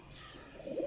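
A pigeon gives a short, soft coo close by, a low rounded call rising at the end of a quiet, brief moment.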